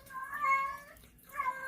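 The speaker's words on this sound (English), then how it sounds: "that's my cat, Joy" A pet cat meows twice nearby, a drawn-out tonal call followed after a short pause by a second shorter one, moderately quiet with a faint background hum.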